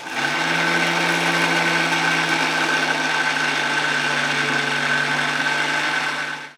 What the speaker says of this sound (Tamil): பார்லி அரைக்கணும்னு சொன்னீங்க இல்லையா நம்ம பார்லி அரைச்சிடலாம்